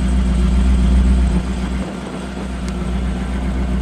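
A 1934 Ford Coupe with a 765 HP fuel-injected big block V8 and gear drive, idling loud and close with a deep, steady rumble and a slight dip in its lope partway through.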